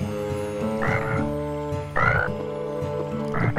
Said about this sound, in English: Tad, doing his night croaking.